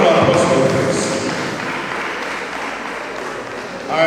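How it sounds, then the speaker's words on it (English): Audience applause at a cooperative society's annual general meeting, a broad steady wash of clapping that fades slightly and swells again at the end, with voices mixed into the crowd noise. "A round of applause for this."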